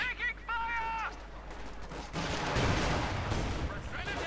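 Distant gunfire and explosions rumble through a battle in the video game Company of Heroes 2, a dense crackling barrage under a short tonal sound effect, moderately quiet and continuous.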